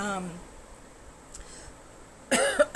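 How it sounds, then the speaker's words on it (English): A brief cough breaks through near the end, close and abrupt, after a short burst of talking and a quiet pause. "All of a sudden, I'm getting a cough."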